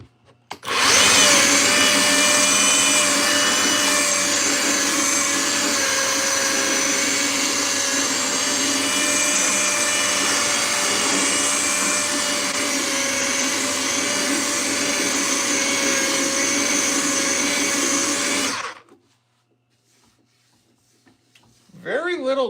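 A new Ridgid power sander runs steadily with a shop vac attached, a loud continuous whine and roar lasting most of the stretch before cutting off abruptly into near silence.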